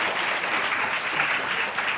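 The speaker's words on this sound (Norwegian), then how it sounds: "så der måtte jeg jo klappe litt ekstra hardt" A crowd claps steadily at an evening event, a dense, even wash of applause from many hands lasting a couple of seconds.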